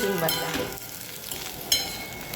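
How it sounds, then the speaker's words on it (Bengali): Egg bhujia (scrambled eggs) sizzles in a pan while a utensil scrapes and stirs it, close up, with a brief louder clatter near the end. "এদিকে আমার ডিমের ভুজিয়া হচ্ছে"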